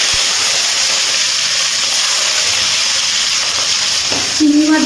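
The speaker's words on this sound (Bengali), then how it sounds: "এবার এই তেলের মধ্যে চিংড়ি মাছগুলো ভেজে নিচ্ছি" Prawns coated in salt and turmeric fry in hot oil over a high flame, giving a loud, steady, close sizzle that hisses without a break. A brief tonal sound appears near the end.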